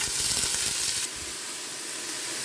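Onions sizzle in a cast-iron cocotte, a bright steady frying hiss that drops slightly in intensity after about a second and carries on quietly with faint stirring.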